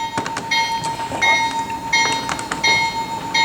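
CSX freight train departing in Franklin, Kentucky, with close, loud rail noise, a steady high horn-like tone and repeated clanking and squealing bursts from the cars, no talk.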